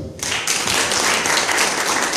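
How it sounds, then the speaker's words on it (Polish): Audience applause at a Women's Day event, a dense continuous roar of clapping that starts abruptly and stays loud and even throughout. "Wielkie brawa dla pani."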